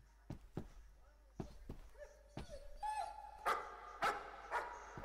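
A dog barks in the horror video game Layers of Fear, a run of sharp, loud barks at irregular intervals, growing more frantic toward the end with game ambience and a voice underneath.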